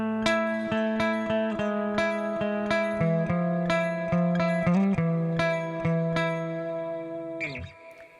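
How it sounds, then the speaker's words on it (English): Sterling Majesty 2020 electric guitar on its bridge pickup with a clean tone and volume boost off, playing a steady run of plucked notes and ringing chords that sustain clearly, alone and close, fading at the end. "We're going to start off on the bridge pickup with that volume boost disabled"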